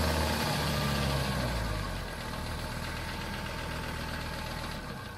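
A Kubota tractor engine idles steadily up close, a deep continuous rumble with a rough low throb that eases slightly partway through.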